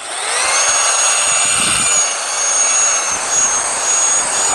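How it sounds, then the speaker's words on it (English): A power buffer works marine ceramic coating onto a boat hull outdoors, a steady, loud motor whine holding a high tone throughout with slight swells in intensity. "We buffed it in with the buffer"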